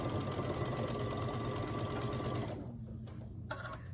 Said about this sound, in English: I am just sewing them together however they are in the stack.